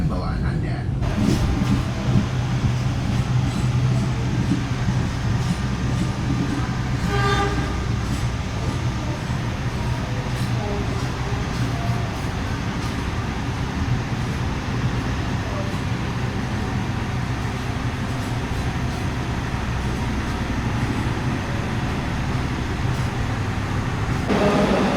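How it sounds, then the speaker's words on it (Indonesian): A Kaligung passenger train arrives at Pekalongan station, its steady low rumble and rolling wheel noise continuous and close throughout, with talk over the top. "kereta api Kalikung tiba di stasiun Pekalongan"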